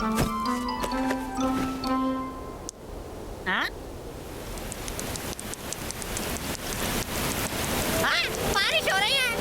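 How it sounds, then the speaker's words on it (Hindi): Cartoon rain falling with thunder, a steady hiss of rainfall with crackling rumbles building toward the end, mixed with music-like tones and a voice speaking over it. "बारिश हो रही है।"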